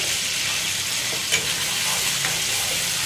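Chicken pieces frying in hot oil for a gongura gravy curry, a loud dense continuous sizzle close up with occasional scraping stirs, no talk.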